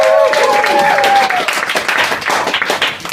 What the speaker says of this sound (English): So give yourselves a quick round of applause.